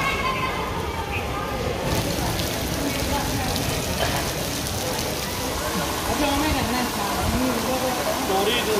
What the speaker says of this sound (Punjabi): ਮੀਂਹ ਰੁਕਣ ਦਾ ਨਾਂ ਨਹੀਂ ਲੈ ਰਿਹਾ